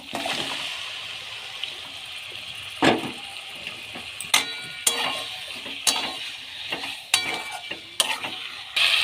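Marinated goat meat hits fried onions in a pan with a loud, steady sizzle, broken by repeated scraping and clattering stirs of a utensil, close and with no talking.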